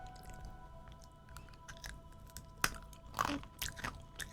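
Someone bites and chews soft but crunchy snacks close to the microphone, a few scattered crisp crunches that thicken into a cluster of louder bites near the end, with no talking.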